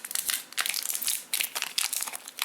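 Packaging crackles and crinkles in a burst of bright, close rustling as a box of dual-coil 0.5 ohm replacement coils for an Aura Mini vape is torn open, in uneven crumpling bursts with brief pauses and no talk.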